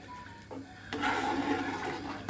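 Water is poured into a cooking pot in a home kitchen. A quiet background gives way to a sudden, steady gush of splashing liquid that continues to the end.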